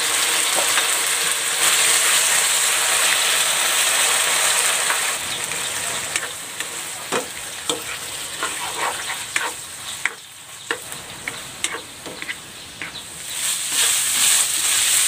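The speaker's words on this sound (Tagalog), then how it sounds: "Ipan-fry ko muna itong chicken." Chicken breast pieces fry in hot cooking oil with a loud, dense sizzle throughout, plus scattered clicks and scrapes from stirring in the pan.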